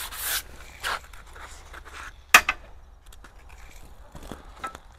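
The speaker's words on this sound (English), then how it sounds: "we're going to sand the edges again where we work" Hand-sanding along the edges of a fire-hardened hickory self bow produces short, scattered rubbing strokes with quiet gaps between them and one sharper scrape near the middle, all close by.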